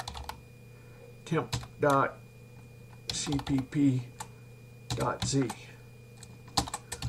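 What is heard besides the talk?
typing on a computer keyboard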